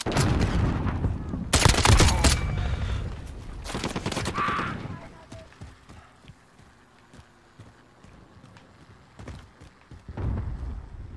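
Gunfire in a Call of Duty: Modern Warfare (2019) multiplayer match, including a shotgun: loud bursts of shots and sharp cracks early on, then quieter scattered distant shots, with another burst near the end.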